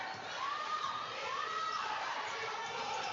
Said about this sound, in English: Crowd gets louder and louder as we speak.